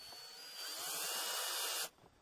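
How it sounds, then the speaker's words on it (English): A power drill driving a screw into plexiglass, a single high whirring run that rises in pitch and cuts off sharply, fairly close and alone. "the drill can move pretty fast."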